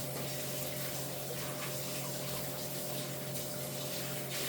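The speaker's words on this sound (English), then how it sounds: "Wash my hands." Hands washed under a running kitchen tap, a steady close hiss of flowing water with small splashing shifts throughout and no voices.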